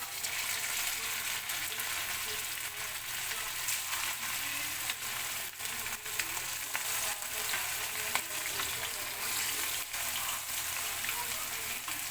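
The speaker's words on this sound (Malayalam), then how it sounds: "ചിക്കൻ പൊരിക്കുന്നുണ്ട് കേട്ടോ" Chicken pieces fry in a pan, giving off a constant close sizzle with scattered pops and crackles and no voices.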